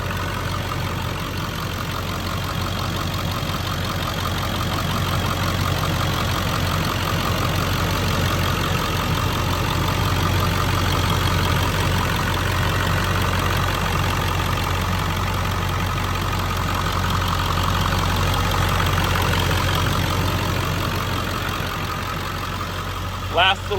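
A 2001 Ford Excursion with the 7.3L Powerstroke diesel idles steadily, a close, continuous low rumble with a faint rhythmic clatter that holds even and unbroken throughout.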